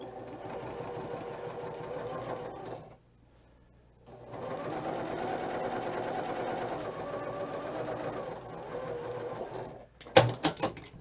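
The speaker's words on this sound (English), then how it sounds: "now I've got that side sewn on" A sewing machine running along the side of a quilt block, two steady stretches of whirring stitching separated by a short pause, then a few sharp clicks and clunks at the end.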